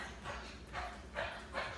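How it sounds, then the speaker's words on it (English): A dog lapping water in a few wet, rhythmic bursts nearby, fairly faint against a quiet room. "Sorry if you can hear that, that's my dog."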